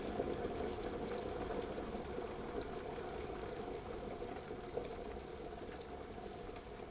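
Water rolling to a boil inside an electric kettle, a steady dense bubbling rumble that holds at an even level throughout, close and continuous with no talking.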